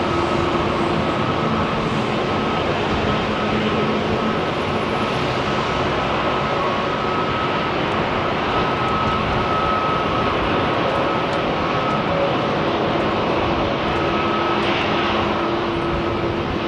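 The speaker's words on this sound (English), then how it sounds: "Nice 737 with KLM." A KLM Boeing 737 jet climbs away from London Heathrow's runway 27R, its engine roar loud and unbroken throughout, with a steady high whine riding on top.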